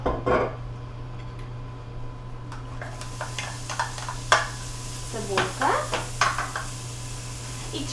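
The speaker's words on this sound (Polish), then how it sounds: "na patelni rozgrzejemy sobie odrobinę oleju i wrzucimy jedną posiekaną cebulę i trzy kwaśne pokrojone jabłka" Chopped onion and sour apples dropped into a little hot oil in a pan, giving soft sizzling with scattered stirring and utensil clatter against the pan, close by.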